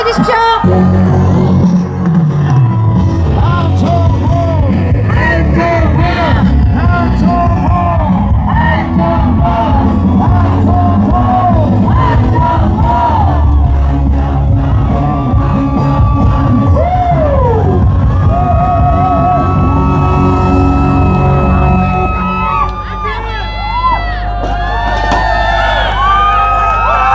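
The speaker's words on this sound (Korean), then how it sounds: "큰 박수로 환영해 주십시오." A large political rally crowd in Daejeon cheers, whoops and yells loudly to welcome a speaker, a dense continuous roar with shouting voices and bangs throughout, easing slightly near the end.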